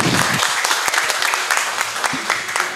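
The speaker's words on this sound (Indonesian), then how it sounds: "Tepuk tangan sekali lagi buat Mas Faris." A studio audience at a football talk show claps in a loud, continuous burst of overlapping hand claps that stays steady for nearly three seconds.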